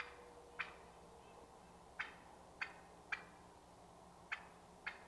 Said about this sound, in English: A simple cluck is peaceful and relaxing, and it just means contentment.